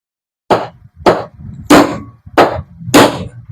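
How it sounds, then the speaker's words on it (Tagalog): Five sharp hammer blows on an electric fan part strike at a steady rhythm, close and loud, each ringing briefly before the next. "Gagamit lang tayo ng martilyo."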